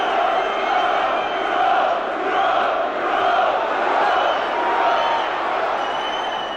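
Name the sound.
Norwich City football fans cheering in a stadium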